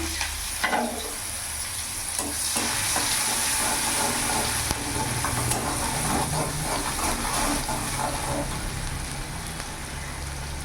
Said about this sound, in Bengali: এবার একটা কুচনো পেঁয়াজ আমি দিয়ে দিলাম।